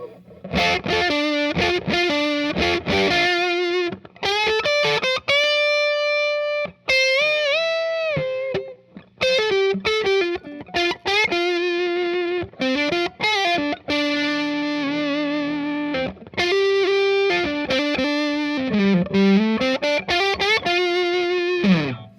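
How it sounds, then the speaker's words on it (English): An overdriven electric guitar through a clean amp with no delay plays a melodic solo line from a rock song, with sustained, bending notes and short pauses, gritty and dry with no echo trailing off. "here's what it would sound like with no delay, but just overdrive and the clean amp"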